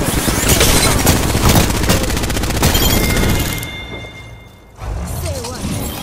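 Rapid bursts of gunfire from the Apex Legends battle royale game, loud and dense for several seconds, then thinning into a quieter lull before more shooting and game sounds resume.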